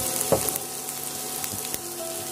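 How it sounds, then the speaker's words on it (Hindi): Ginger and garlic frying in a pan for egg bhurji, a soft steady sizzle with a few light scrapes and taps from stirring. "अब इसे चलाते हुए भून लेंगे।"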